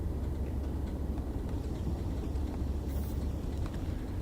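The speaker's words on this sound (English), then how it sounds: "It's a nice train, the 37." Class 37 diesel locomotive in Train Sim World 3 on the Tees Valley Line, a steady low engine rumble and rolling drone held throughout at constant loudness, with no talking.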